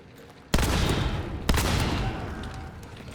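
Two heavy shotgun blasts in a battle video game, loud and close, each a sharp broadband crack followed by a long rolling decay, spaced about a second apart.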